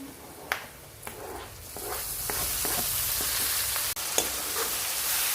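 Tomatoes hit hot spiced oil for a turai sabzi, a loud continuous sizzle with a few sharp stirring knocks and scrapes over it.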